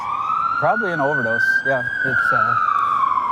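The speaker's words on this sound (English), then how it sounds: "Where do you think that ambulance is going to that we can hear behind us?" An ambulance siren wails in a steady rising and falling tone some distance behind, running the whole time while people talk close by over it.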